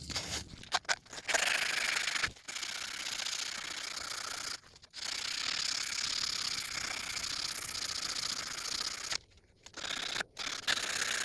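Knife blade drawn over a 120 grit abrasive strip while being reshaped, a steady dry scraping rasp that runs in long strokes with brief pauses between passes, close and moderately loud.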